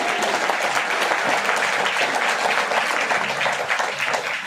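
A seminar audience in Faridabad breaks into sustained, dense applause, many hands clapping steadily and loudly throughout without pause, with a slight crowd murmur underneath.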